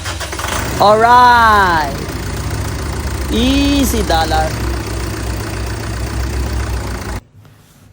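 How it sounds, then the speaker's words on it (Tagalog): An engine starts and settles into a steady low idle, with surging rising-and-falling tones early on and people talking and exclaiming over it before it cuts off near the end. "Start na natin yung makina."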